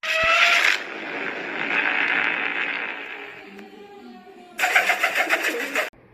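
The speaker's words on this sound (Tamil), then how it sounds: "இன்றைக்கி நம்ம வந்து நம்மளோட பிஜியான் டூர் தான் கைஸ் பார்க்க போகிறோம்" Pigeons coo inside a backyard coop, soft rolling calls over a low murmur of background noise, with a brighter, busier burst of bird sound rising near the end.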